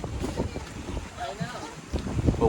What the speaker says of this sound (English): but the wind is blowing so bad.